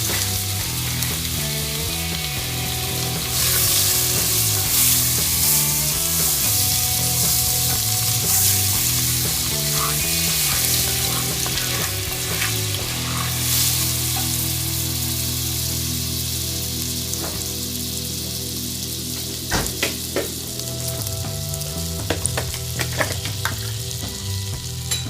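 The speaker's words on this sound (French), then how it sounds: "je vais rajouter sur mes sucs de cuisson un bon bout de beurre" Butter sizzles and fries loudly in a hot pan over turkey cooking juices for a sauce, a steady crackling hiss with occasional stirring scrapes, close and continuous with no talk.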